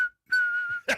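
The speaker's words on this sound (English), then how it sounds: "I want to hear B. Mitch layer in your whistling." A person whistles on a radio show, a clear sustained single-pitch note after a brief opening tone, ending with a short breathy burst.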